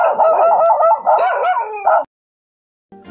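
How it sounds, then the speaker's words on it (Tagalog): A loose dog in a residential setting gives a burst of yelping, howling barks lasting about two seconds, fairly loud and close, then silence before a brief faint sound at the end. "Ma'am, yung aso nyo nakawala."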